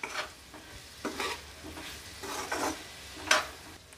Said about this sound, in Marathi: त्याच्यामध्ये तळलेले पनीर घालूयात आणि सर्व मिक्स करून घेऊयात।